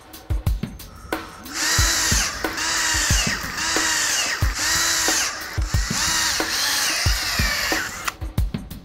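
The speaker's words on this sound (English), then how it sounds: "Then you will start drilling your holes on your top belt where you have the template tape." A power drill bores holes through a conveyor belt in repeated bursts of whining spin, about six drilling passes with brief pauses and clicks between them, close and loud.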